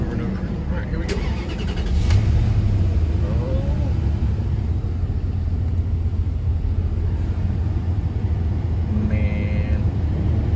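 A Dodge Dakota engine cranks and catches, settling into a steady loud rumble that runs throughout, with a brief voice partway through.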